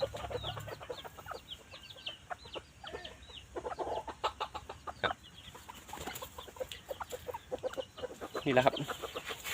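Short-legged bantam chickens, including a young pullet, cluck in a steady stream of short calls close by in a backyard coop, with a louder burst of calls near the end.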